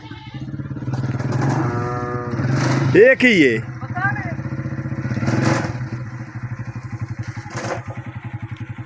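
A motorcycle engine idling and revving nearby, a steady throbbing rumble that swells and eases, while people talk over it and a short cry or moo-like call cuts in midway.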